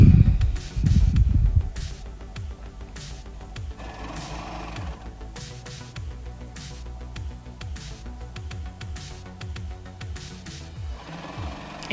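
Domestic sewing machine stitching a fabric strip onto the front of a maxi dress, running close up in a fast, even mechanical chatter with brief pauses and a louder thump at the start.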